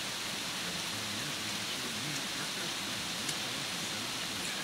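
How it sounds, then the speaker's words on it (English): Torrential rain pours down outside in a steady, dense hiss that fills the whole stretch without a break, with only a faint low rumble beneath it. "It's really coming down. I don't know if you can hear it or not. We're getting torrential rains."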